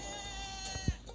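A goat in the video game Goat Simulator gives a single short bleat, sounding over a steady tonal game background.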